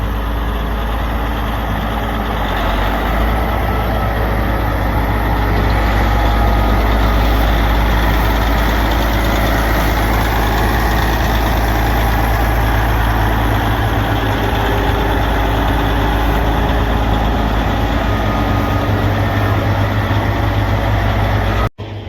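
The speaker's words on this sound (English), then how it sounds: "that's a sweet tractor" A heavy diesel tractor engine idles steadily at close range, a deep continuous rumble with a constant drone, no talking, cutting off abruptly at the end.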